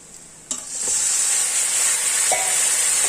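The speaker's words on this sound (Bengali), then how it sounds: "মশলাটা কড়াইতে ভাজা হয়ে গেলে এবার ম্যারিনেট মাংসটা দিয়ে দেবো এখানে।" Marinated country chicken hits a hot pan of fried spices, and a sharp burst of loud sizzling follows. The hiss swells and then holds steady and close, with a few stirring scrapes.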